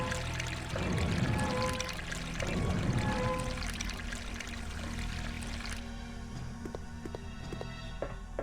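In Resident Evil Code: Veronica X, water drains from a tank with a steady rushing pour that cuts off partway, leaving a quiet background with a few soft clicks.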